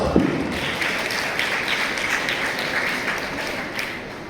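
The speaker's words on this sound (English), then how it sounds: "So let's give her a huge round of applause" A school audience at an Independence Day function applauds its principal with a steady, dense wash of clapping that holds evenly for several seconds.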